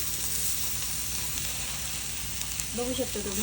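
Onion and coconut frying in a kadhai for a village-chicken curry give a steady, close, loud sizzle and hiss throughout, with a brief voice-like tone near the end.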